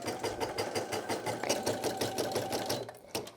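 A Brother PE800 embroidery machine stitches a design with a steady, rapid mechanical chatter of needle strokes that runs close and continuous before a brief stop near the end.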